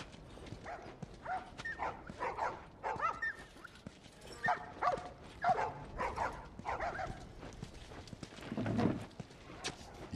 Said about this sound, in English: We got our lovey puppy, man.